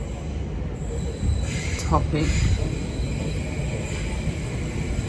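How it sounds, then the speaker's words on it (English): A train squeals along the rails as it passes, a thin metallic screech rising and wavering for about a second over a steady rumble, with a person talking quietly alongside. "That's a train."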